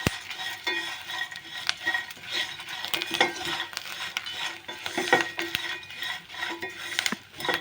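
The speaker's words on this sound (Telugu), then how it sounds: "చూడండి జీలకర్ర వేస్తున్నాను." Cumin seeds are added to flaxseeds roasting in a pan, giving a soft sizzle under frequent scraping and clinking stirs of a metal spoon, close and uneven in rhythm.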